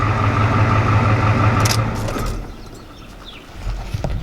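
A pickup truck engine runs close by, leaking coolant from a likely faulty radiator cap, with a steady low idle hum and mechanical clatter before it drops off and quiets.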